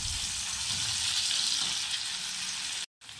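Tomatoes and potatoes for a poppy-seed potato dish sizzle steadily in a frying pan as they are stirred, a continuous close frying hiss that cuts off briefly near the end before resuming.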